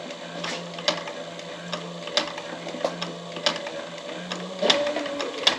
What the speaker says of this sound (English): let's go ahead over to the sewing machine